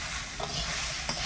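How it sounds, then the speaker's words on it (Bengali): Potatoes fry in a pan on a home stove, giving a steady sizzling hiss with a couple of brief stirring scrapes and no talk. "এখানে আলু ভাজছি"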